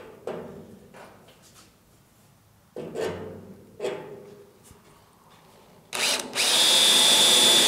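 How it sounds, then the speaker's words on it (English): Several short bursts of a power drill biting into spot welds in a steel car firewall, separated by quiet pauses, then a louder sustained drilling run at the end. "All right, I got most of those drilled,"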